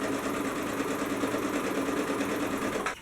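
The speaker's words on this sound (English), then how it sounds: "we're just going to go ahead and sew all the way around" Sewing machine stitching all the way around a pair of paperbag pants, a steady rapid mechanical hum that runs continuously and stops abruptly at the end.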